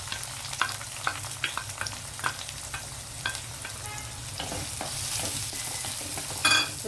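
Onions fry in hot oil while being stirred, a soft steady sizzle underneath repeated close scrapes and clinks of a spoon against the pan, swelling slightly louder toward the end.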